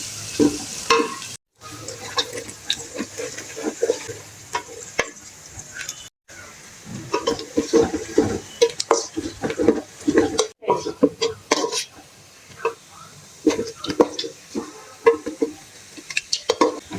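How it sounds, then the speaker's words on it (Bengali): Sliced onions for a chicken korma fry in a pan until golden, with a steady crackling sizzle and frequent close scrapes and clinks of a spatula stirring through them. "এখন পেঁয়াজগুলো আপনার বেরেস্তা করে নিতে হবে"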